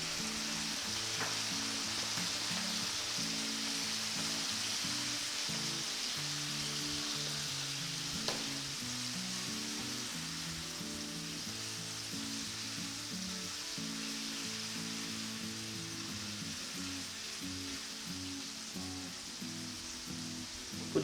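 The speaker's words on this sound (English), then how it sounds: "We add the wine." Garlic tiger prawns with wine added, sizzling steadily in a hot pan, with a constant close frying hiss and occasional faint stirring clicks, no voices.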